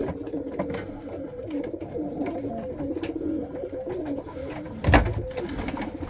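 Pigeons coo steadily in a loft housing separate cockbirds and hens, a layered murmur of overlapping calls with one louder burst near the end.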